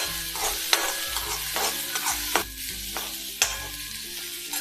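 Peanuts and turmeric are stirred in a hot pan for kanda poha, a close, steady sizzle punctuated by sharp scraping strokes of a spoon about once a second, with no speech.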